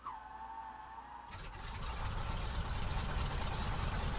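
Radial engine of a Beech 17 Staggerwing biplane in Microsoft Flight Simulator 2024: a rising starter whine, then the engine catches at about 1.3 s and settles into a loud, steady, rumbling idle.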